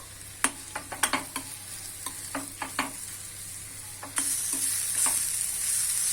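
A spoon stirs fenugreek powder and a pinch of turmeric into a green chilli mixture in a pan, producing a string of close, sharp scrapes and clicks, followed by a steady sizzling hiss, with no talking.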